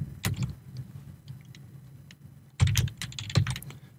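Keystrokes on a computer keyboard while coding an if statement for a Doodle Jump-style game, a few clustered clicks early, then a quiet gap and a louder burst of rapid taps near the end.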